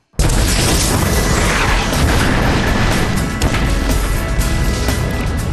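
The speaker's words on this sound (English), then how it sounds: "In slow motion, we could see the mixture of creamer and air explode violently" A sudden loud whooshing blast as a coffee creamer and air mixture ignites in a dust explosion, roaring on as a sustained broadband rumble, close and powerful, without fading.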